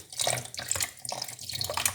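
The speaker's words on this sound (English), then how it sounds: "with a slightly more gentle bit of water, I wash them out," Kefir grains rinsed under a gentle stream of tap water, splashing and trickling in uneven surges for about two seconds, close and clear with no talking.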